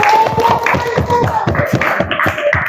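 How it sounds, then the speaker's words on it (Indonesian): A classroom of students applauds a third group of classmates, a dense run of near, rhythmic hand claps with some voices mixed in, steady and loud throughout. "Tepuk tangan untuk kelompok ketiga."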